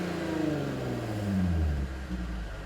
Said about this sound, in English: You can either swing it over to the right like this and then blip the throttle, as so